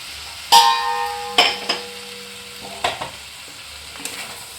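Pre-fried potatoes being stirred into Bengali-style chicken kosha: a spoon scrapes and clanks against the pan in a few distinct strokes, each followed by a burst of sizzling that fades between strokes.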